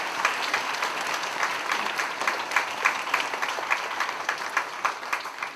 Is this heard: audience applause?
yes